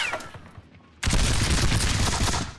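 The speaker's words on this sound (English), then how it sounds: "So they've fired. Firing at this one company," A musket volley rings out in an American Revolution battle video game, one sudden massed crack of many muskets at once, then a loud rolling rumble of gunfire and smoke-filled echo that holds for over a second, with no talk.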